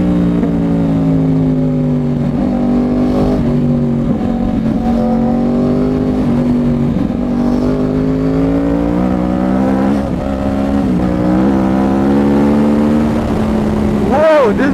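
A loud Yamaha R1 motorcycle with a Toce exhaust runs on Mumbai roads, its engine note droning and rising through revs continuously, close and dominant throughout.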